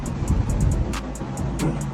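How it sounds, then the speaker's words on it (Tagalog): Steady traffic hum from vehicles on a nearby highway in Bangkok, Thailand, a low continuous roar heard from a distance with faint higher ticks over it. "narinig nyo yung mga sasakyan because this area is near the highway"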